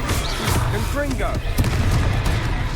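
Confringo fire spell exploding during a battle in Hogwarts Legacy, heard as a continuous barrage of booms and crashes with voices shouting over the din.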